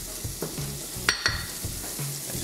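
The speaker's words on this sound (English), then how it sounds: "in another pan on a low heat, we put the butter in with a little bit of the pancetta." Butter and a little pancetta frying in a pan over low heat, a soft steady sizzle with a few sharp utensil clinks and scrapes, close and alone without talk.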